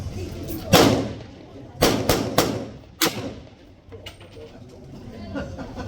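A pistol loaded with .45 ACP rounds fires at an outdoor 1940s-themed weekend at a heritage railway: five sharp, booming reports at irregular intervals, each ringing out, with faint crowd murmur behind.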